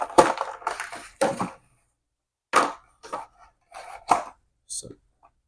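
Plastic clamshell packaging for a Superman action figure is pried open in a few sharp crackling crunches and snaps, with quiet gaps between.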